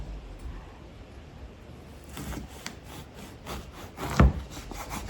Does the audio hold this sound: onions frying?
no